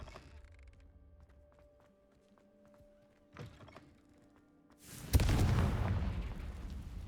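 The Confringo fire-blast spell in Hogwarts Legacy, a sharp cast followed by a loud, booming burst that lingers as a rumbling roar for a couple of seconds.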